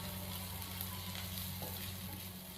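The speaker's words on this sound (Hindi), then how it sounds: "लहसुन और अदरक के पेस्ट को शामिल करके हमने 1 मिनट के लिए फ्राई कर लिया।" Garlic and ginger paste fries in a pan for bread potato samosa filling, a steady soft sizzle with a low hum beneath, close but quiet and continuous.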